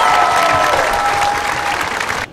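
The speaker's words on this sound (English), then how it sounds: "Let's give them a great round of applause," A large outdoor crowd at a marching band festival applauds after a band's performance, a loud dense burst of clapping that gradually thins and fades toward the end.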